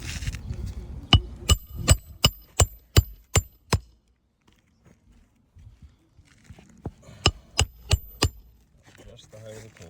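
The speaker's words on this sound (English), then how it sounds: "Driving the nail the rest of the way in" Hammer driving a nail the rest of the way in during a pole repair: a run of seven sharp, evenly spaced metallic strikes, a quiet pause with faint rustling, then four more strikes, close and loud.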